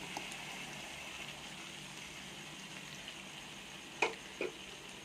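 Tomato paste fries with garlic-ginger paste in a pan, a faint, steady low sizzle with a couple of brief sharp clinks or stirring knocks near the end.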